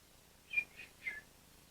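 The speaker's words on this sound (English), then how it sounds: "It's a little whistle." A small toy whistle gives three quick, high, chirpy toots, faint and close, with near silence around them.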